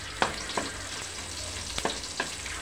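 Sautéing in a pan for sayote with shrimp: a continuous sizzle with several sharp utensil scrapes and clicks against the pan, close and moderately loud.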